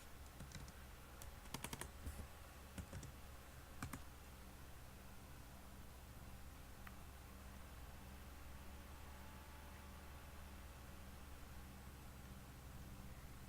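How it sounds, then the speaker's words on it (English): Typing on a computer keyboard during an online records search, a quick cluster of close clicks in the first few seconds, then faint background hiss with no talking. "So I'm going to type in Walker."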